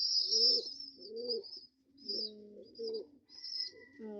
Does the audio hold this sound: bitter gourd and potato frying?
no